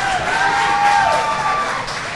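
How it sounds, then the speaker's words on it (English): Crowd cheering at a 16U and 18U softball event, a sustained wash of voices with whoops rising above a steady roar through the short stretch. "Such a great crowd tonight."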